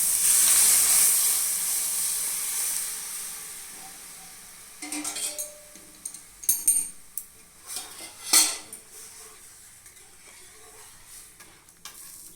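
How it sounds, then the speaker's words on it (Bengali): Masoor dal added to a pot tempered with panch phoron and tomato: an initial hiss of steam and sizzle fades, followed by a few metal spoon scrapes and clinks against the pot, then quiet. "এবার সব ডালটা দিয়ে দিচ্ছি।"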